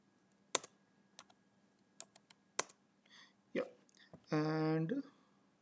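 Sparse, crisp computer keyboard keystrokes click in short separate taps during copy and paste shortcuts, followed by a brief spoken remark near the end.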